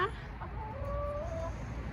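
Backyard chickens, eleven birds in a home coop, give a couple of short soft clucks and a drawn-out warble, moderately close, over steady outdoor background noise.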